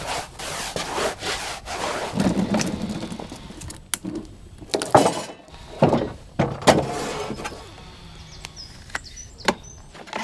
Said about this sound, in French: Une brosse et c'est parti.